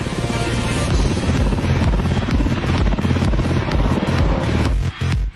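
A pilotless helicopter roars loudly overhead, its rotor producing a fast, steady chopping thump beneath a broad mechanical whine.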